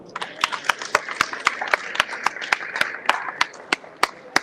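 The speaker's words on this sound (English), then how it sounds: "A round of applause for them" A modest group applauds at a Bangladeshi chamber Eid party in Wales, sparse individual claps ringing out clearly in an uneven rhythm over a low murmur of voices.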